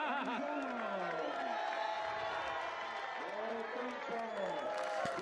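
A large crowd cheers and applauds at the Misano podium for Valentino Rossi after a GT World Challenge Europe race, a steady distant roar with a commentator talking over it.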